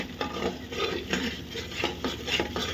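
A spoon stirs turmeric-coated masala in a pan, making close, continuous scraping strokes with a faint sizzle underneath.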